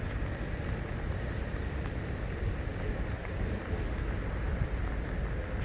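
Steady rain on a cold day at Coney Island, Brooklyn, a dense, even wash of falling water with a low rumble beneath, continuous and fairly loud with no voices.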